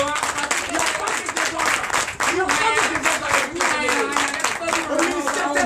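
A church congregation claps at a Sunday worship service in Comè, Benin, with a steady wash of applause running throughout, mixed with voices and some singing or cheering over it.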